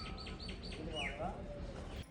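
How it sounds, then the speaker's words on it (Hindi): Birds among village trees give short, repeated chirps and tweets against a background of low outdoor rumble, fairly faint and a little distant. "चिड़ियों के चहकने की आवाज़ आपको सुनाई दे रही होगी"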